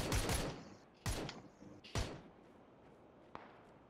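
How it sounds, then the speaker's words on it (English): Sharp gunfire from other players up a hill in the battle royale game PUBG, three loud broadband shots about a second apart and then a fainter fourth crack, with quiet ambience between them. "We've got other people shooting at us from up the hill."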